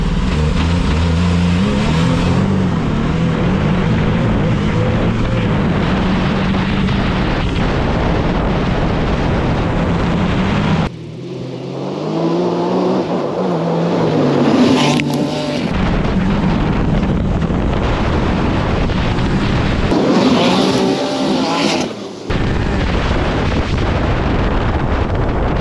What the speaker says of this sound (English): It starts like kind of spinning and popping in the anti-lag.